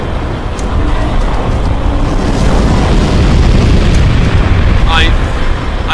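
A fire attack from an early boss in the game Salt and Sanctuary: a loud, sustained roaring blast with rumbling bursts that fills the whole stretch, with someone talking over it.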